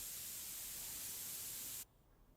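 A spray tool in Car Dealer Simulator hisses steadily in its spray mode, a loud even rush of paint spray that runs for about two seconds and then cuts off abruptly, leaving near-silence.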